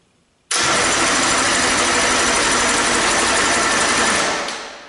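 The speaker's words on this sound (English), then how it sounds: "We're going to crank the engine." An outboard boat engine is cranked by its starter during a spark check, a loud, steady, rapid mechanical whirring that begins abruptly after a brief quiet and runs for about four seconds before tapering off.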